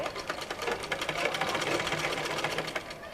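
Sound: sewing machine stitching a bolster pillow cover

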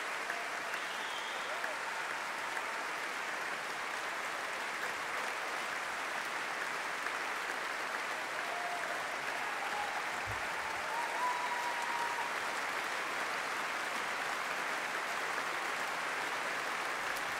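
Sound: audience applause at the Festival Oude Muziek Utrecht concert

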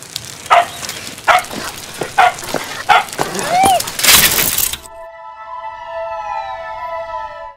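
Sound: dog barking

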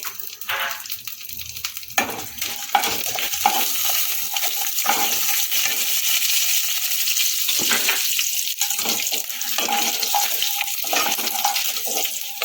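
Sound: tempering spices frying in hot oil for sweet corn upma

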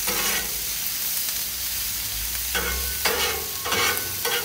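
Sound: onions sautéing on a Blackstone griddle

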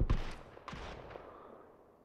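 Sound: gunfire from an SLR rifle in a video game

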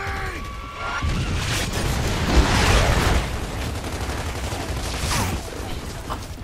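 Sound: gunfire from the video game Gears of War 3

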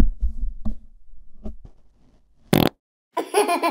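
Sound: fart

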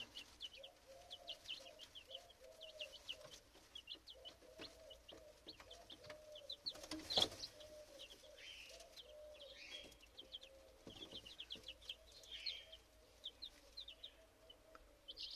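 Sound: Silkie chickens clucking

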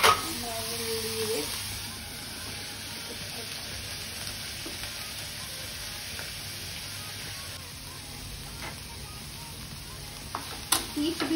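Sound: stirring egg roll mixture frying in a pan

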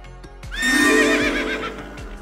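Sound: horse neighing and hooves clip-clopping

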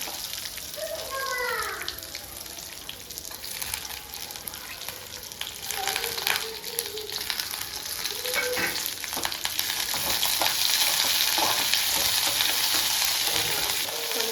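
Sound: curry leaves and garlic sautéing in pan

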